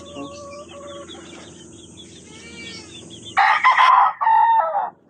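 A gamefowl rooster of the SBR Banahaw line crows loudly on a small gamefowl farm, with drawn-out crows and clucking from nearby birds and a sharp, loud burst of crowing near the end.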